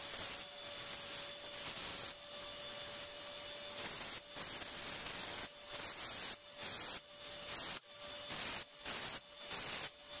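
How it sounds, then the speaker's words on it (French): Hand file or belt sander shaping a forged round metal punch: steady, continuous abrasive rasping that fills the whole stretch with brief dips between strokes, close and fairly uniform. "on peut le faire à l'aide d'une lime, ou bien on peut utiliser une sableuse à courroie"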